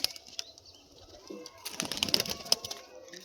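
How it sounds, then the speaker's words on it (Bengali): A flurry of wing flaps as pigeons are released by hand and take off, with scattered soft coos amid outdoor background noise. "আরও কিছু পায়রা উড়িয়ে দিচ্ছে, দেখো পায়রা উড়িয়ে দিয়েছে দেখো"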